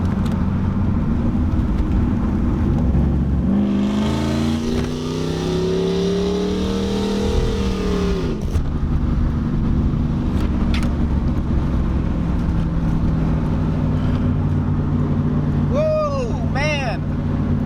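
A Chevrolet Camaro Z28 engine is pushed hard at full throttle in fourth gear, giving a steady, close, droning roar that swells into a rising, straining whine through the middle before settling back to a lower rumble.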